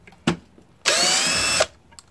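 A SCANS 20V lithium cordless drill driver drives a wood screw in one steady, loud whirring burst of under a second, preceded by a short click and followed by quiet.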